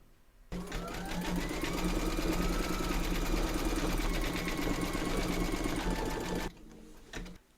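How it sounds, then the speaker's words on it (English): An embroidery machine stitches a grass outline in dark green thread, its fast steady whirring hum starting abruptly, holding evenly loud and close for about six seconds, then cutting off. "Load your thread colour for the grass into your machine and then stitch round number 8"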